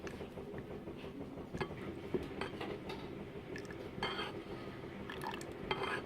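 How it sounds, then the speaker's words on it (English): Meat being stirred into dissolved jelly in a pan, a soft puppy weaning food, with steady scraping and clinking of utensil against pan throughout, close and moderately loud, no talking. "I will add in the meat to the pan and mix it all around"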